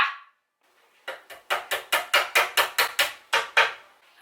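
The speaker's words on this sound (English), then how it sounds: "I have to use this dinky L'Oreal PR hammer because I can't find my hammer" A dinky L'Oreal PR hammer strikes in a fast run of about eleven sharp, even blows, close and loud, after a short pause.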